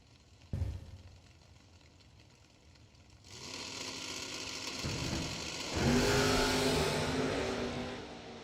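A USA American-made Mustang drag racing car accelerates hard at a drag strip Christmas bracket event, a loud broadband engine roar that surges around three seconds in and swells further near the end, with no talk over it.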